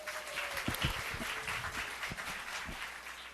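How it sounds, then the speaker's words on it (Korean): A church congregation claps during a Sunday service, a moderate, fairly steady round of applause with a few louder thumps underneath. "박수 한번 쳐주세요"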